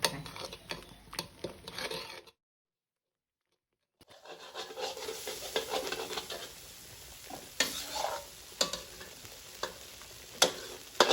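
Red curry paste stir-fried in a pot, a soft sizzle with repeated spatula scrapes and taps that stops briefly to silence, then resumes with steady stirring and occasional louder knocks.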